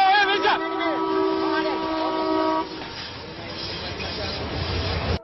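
A train horn blasts in long sustained tones as the train fast approaches, then cuts off, leaving rumbling noise; a voice talks faintly underneath.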